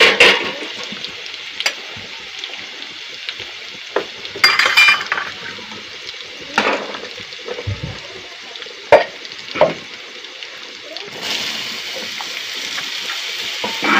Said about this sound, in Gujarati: દૂધીને ફેરવી લઈશું.